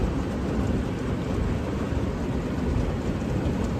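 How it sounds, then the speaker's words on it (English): Steady rain pours down in a weak thunderstorm in Minnesota, a dense, loud wash of noise with a low rumbling undertone and no voices. "a weak little storm coming in here"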